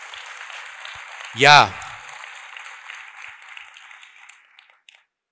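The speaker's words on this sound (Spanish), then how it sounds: "Un aplauso al Señor." A church congregation claps in a steady wash of applause that slowly fades out, while a single voice speaks briefly over it.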